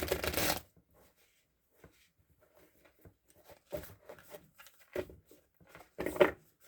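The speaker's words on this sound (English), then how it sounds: "Just give them a quick shuffle and clear the energy of the deck." A deck of cards is shuffled in several quick riffling bursts, separated by short quiet gaps, close and crisp.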